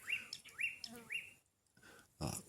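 A black-collared barbet calls in a sunny Southern African garden near a plastic container, giving three clear repeated rising whistled notes, close and distinct, followed by a brief quieter pause and a burst of other noise.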